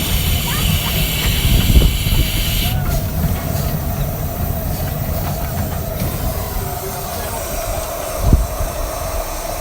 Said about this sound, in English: So you can feel the brakes slowing us down now.